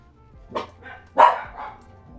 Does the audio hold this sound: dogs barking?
yes